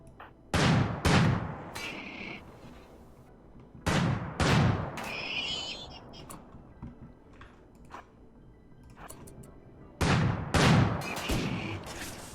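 Slug turrets firing in the RimWorld video game, in three separated bursts of heavy, rapid, close shots with short quiet gaps between them.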